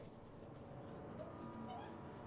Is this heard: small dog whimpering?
yes